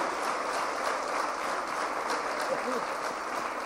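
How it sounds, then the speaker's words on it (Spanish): A church youth discipleship congregation applauds, a dense continuous wash of clapping held at an even level, with faint voices mixed in. "Denle un aplauso."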